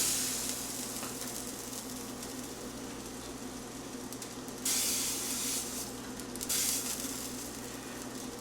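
Schnitzel slices frying in a generous layer of oil on a stovetop set a bit over medium, a steady broadband sizzle and hiss running throughout, with two brief louder bursts of spitting partway through.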